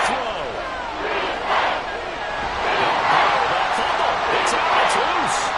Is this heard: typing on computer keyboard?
no